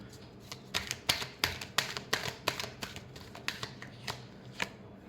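Tarot cards are shuffled by hand close up. Crisp riffling and slapping card sounds come in quick, irregular bursts, and nobody speaks.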